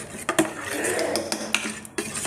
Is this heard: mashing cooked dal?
yes